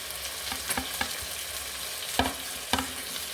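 Mango pieces stirred into a Palakkad-style home-cooked fish curry frying in a pan, with a steady sizzle broken by several sharp scraping clatters of the spoon, close and fairly quiet.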